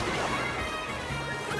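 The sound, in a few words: shock item fired in Mario Kart World video game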